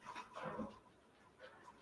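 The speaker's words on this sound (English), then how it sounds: "I think the dog wants to go to the loo." A pet dog pants close by in short, quiet breathy bursts, one cluster and then a fainter one, with a slight whimpering edge in an otherwise quiet room.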